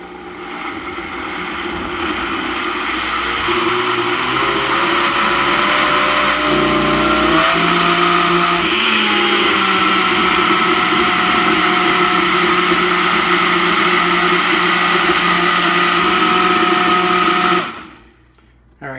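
A Vitamix blender fitted with a personal cup adapter whirs loudly and steadily for about seventeen seconds, crushing frozen fruit into a smoothie, its motor pitch shifting slightly midway before cutting off abruptly near the end.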